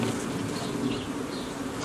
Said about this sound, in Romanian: să privești albinele când zboară